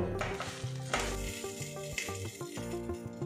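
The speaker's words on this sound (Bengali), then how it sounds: "বাকি যেগুলো রয়েছে সেগুলো এইভাবে ফ্রাই করে নেব" Cauliflower paturi parcels fry in a pan with a close, lively sizzle, mixed with repeated scraping and clinking as they are turned. No speech is heard.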